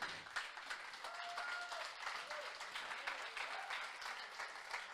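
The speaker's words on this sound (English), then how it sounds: "can you guys stand up and give them a big applause to these guys, please?" A crowd at a Bitcoin event in Berlin gives a standing round of applause, a dense, even patter of many hands at moderate distance, with a faint tonal sound briefly showing through the clapping.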